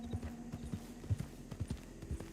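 Rose-coloured horse hooves clip-clop in Red Dead Redemption 2, a steady walking rhythm of about a dozen soft, close thuds over a low hum.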